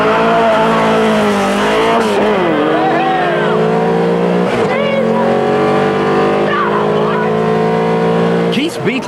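Two American race cars, one with 450 horsepower, roar loudly at a mid-1990s Beetle-themed racing show, engines revving and shifting with tire squeal, under continuous crowd noise and commentary.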